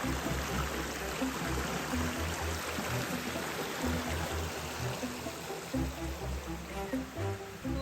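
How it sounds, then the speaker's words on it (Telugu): A stream flows steadily beside the walkway at St Nectan's Glen waterfall in Cornwall, a constant close rushing and trickling wash of water with no talk. "రైట్ సైడ్ మొత్తం అట్లా వాటర్ ఫ్లో అవుతూనే ఉంటాయి అనమాట. You can listen to it."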